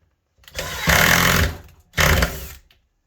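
Power driver driving screws into a 125 amp electrical subpanel box in a garage, two close whirring bursts, the first about a second long and the second shorter, separated by a brief pause.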